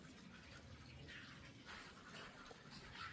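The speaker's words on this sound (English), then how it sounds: "I got water coming into that container" Water runs steadily into a container for garden watering, a continuous close rushing splash with no pauses and no voices.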